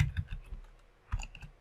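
A few light clicks of computer keyboard keys, ending in a single clear Enter key press, heard close up and quiet with no talking.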